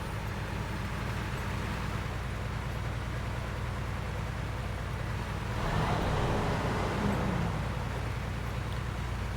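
An upgraded truck engine in SnowRunner drones steadily with a low, even rumble throughout, swelling slightly partway through as the truck pulls along.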